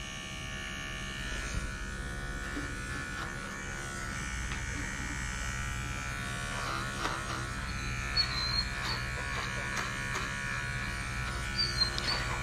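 Electric pet trimmer buzzing steadily while grooming an Aussiedoodle puppy, a continuous close hum with slight shifts in pitch as it moves over the fur, running throughout.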